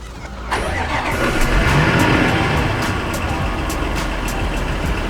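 A 2018 Range Rover engine cranks and catches, then settles into a loud, close, steady rumble and rev that holds for several seconds without speech.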